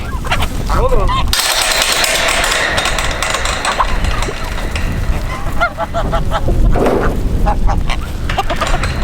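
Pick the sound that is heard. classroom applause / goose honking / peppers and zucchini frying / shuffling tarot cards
goose honking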